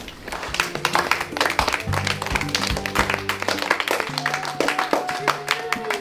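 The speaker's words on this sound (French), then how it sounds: "Je pense que vous pouvez vous applaudir." Applause breaks out among a French school audience, dense broadband clapping running steadily across the whole stretch, with some voices and faint tonal background sounds mixed underneath.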